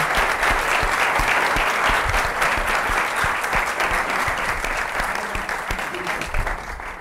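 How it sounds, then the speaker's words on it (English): Audience applause welcomes Nobel physics laureate Barry Barish as the guest during his visit to the University of the Balearic Islands; dense, steady clapping fills the whole stretch and tapers slightly near the end. "So a big applause to him."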